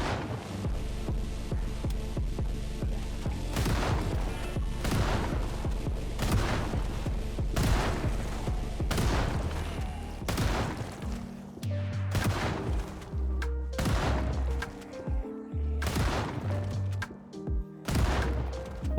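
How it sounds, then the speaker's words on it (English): Shotgun blasts against zombies in the game Project Zomboid, with loud repeated booming shots at an irregular pace over a dense, continuous game soundscape. "so I whipped out the shotgun and got to work"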